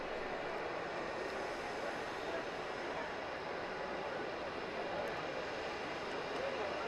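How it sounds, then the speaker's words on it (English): An Apache helicopter's engines start up and roar steadily and evenly at a baseball game, a dense broadband drone with no pauses or rhythm. "And now the Apache helicopter that was brought here by the North Carolina Coast Guard"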